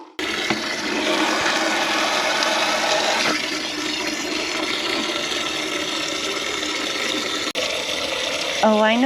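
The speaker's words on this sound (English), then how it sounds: "I'm going to put a bit of water in this bucket." Water pours steadily into a bucket in a garden, a continuous loud rushing gush filling the whole stretch, with a brief clatter at the end.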